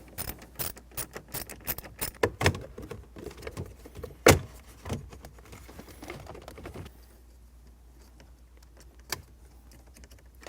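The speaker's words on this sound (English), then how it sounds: "So grab a 7mm socket and pop them out." Metal clicks and ratcheting taps from a 7mm socket loosening bolts on a Ford Mustang dash, a run of sharp close clatters with a few louder knocks, tapering to near quiet with one late click.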